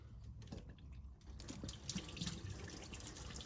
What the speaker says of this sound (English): A little bit of coolant. I guess I'll let that just drain right on top of the starter.